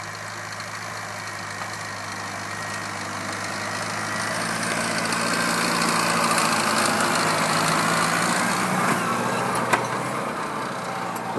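A Farmall Cub small farm tractor engine runs steadily under load while plowing about eight inches deep, a continuous mid-distance drone that swells slightly partway through, with no talk.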